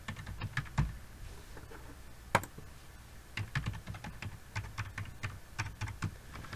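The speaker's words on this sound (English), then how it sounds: "Enter my password." A password is typed on a computer keyboard as a close run of soft, irregular key clicks, with one sharper tap partway through.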